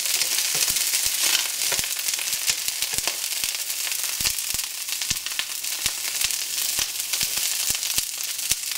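Broccoli crowns sizzling in hot oil in a pan, a steady loud crackle dense with sharp pops and spatters throughout, no talking.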